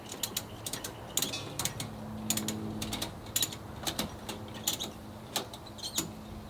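A ratchet strap being tightened to secure a surface cleaner, ladder and pressure washer in a power washing truck, giving repeated close mechanical clicking bursts in an uneven rhythm, with no talk.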